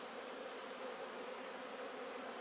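Close, constant droning from many honeybees at an open lilac beehive in a Piedmont yard, an even swarm hum without speech.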